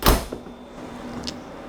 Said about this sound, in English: Close our door,